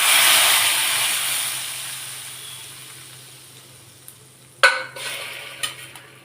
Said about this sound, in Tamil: இந்த எண்ணெயோடைய சூடுக்கே உளுத்தம்பருப்புன்னா வறுத்து கிடச்சிடும்